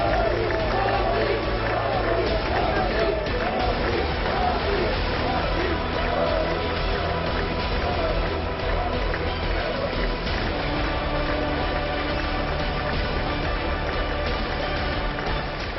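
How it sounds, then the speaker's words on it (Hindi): Sustained applause fills the US Congress chamber as India's Prime Minister Modi arrives, a dense, continuous wash of clapping and crowd noise that runs unbroken for the whole stretch, with a voice speaking over it. "ये तालियां तब तक नहीं थमी जब तक पीएम मोदी ने मंच नहीं संभाल लिया।"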